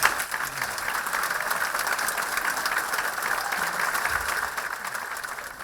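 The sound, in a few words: audience applause for a musician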